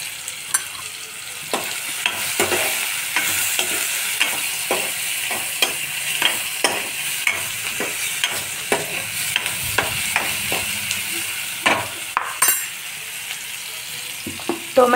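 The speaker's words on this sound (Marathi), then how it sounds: "त्याच्यात थोडं आपण हिंग टाकणार आहोत।" Onion and tomato frying with a pinch of asafoetida in a pan, a close, steady sizzle under frequent scraping and clacking strokes of a spoon stirring, with no speech.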